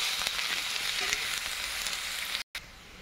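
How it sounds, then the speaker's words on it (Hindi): Garlic frying in hot oil in a pan, a continuous bright crackling sizzle heard close up, with a brief gap near the end. "तेल गर्म हो चुका है, इसमें मैं लहसुन डाल रही हूँ। इसको गोल्डन होने तक मैं फ्राई कर लूँगी।"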